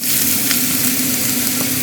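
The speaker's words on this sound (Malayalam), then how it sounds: "ഒലീവ് ഓയിൽ നന്നായി ചൂടായിട്ട് ഞാൻ ആദ്യം ഉള്ളി ഇട്ട് കൊടുക്കുക" Chopped onions sizzling steadily in hot olive oil in a pan for a Spanish potato omelette, a loud, even crackling hiss with no talk.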